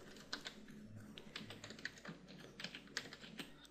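Quick, uneven clicking of a computer keyboard while HTML form code is typed, soft and close, with keystrokes in short bursts and no voices.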